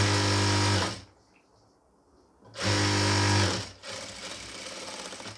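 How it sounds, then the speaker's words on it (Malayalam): A sewing machine stitches a pleated nightie, running loud and steady in two long bursts separated by a quiet pause, with softer handling and machine noise continuing after the second burst. "സ്കേർട്ട് പീസിൻ്റെ ഭാഗത്തൊക്കെ നമ്മൾ സ്റ്റിച്ച് ചെയ്ത് കൊടുക്കുമ്പോൾ"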